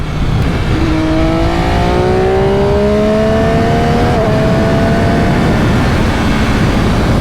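A 2020 MV Agusta F3 800 RC motorcycle is ridden on the road, its exhaust loud and close, revving up through rising pitch with a brief gear-change dip, under heavy rushing wind noise.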